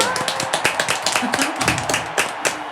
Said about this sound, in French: on va faire un tonnerre d'applaudissements juste